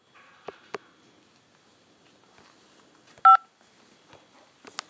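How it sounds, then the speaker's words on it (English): Telephone keypad press of 5 to accept a collect call from a Washington prison: one clear, short two-tone DTMF beep, loud and sharp, surrounded by faint handling clicks and line noise. "To accept this call, press 5 now."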